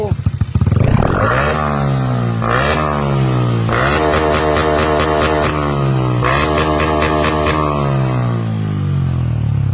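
A motorcycle fitted with a modified YES split exhaust pipe revs hard several times close by, each throttle blip rising and falling over a rough, loud idle.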